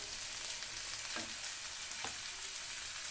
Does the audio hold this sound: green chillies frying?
yes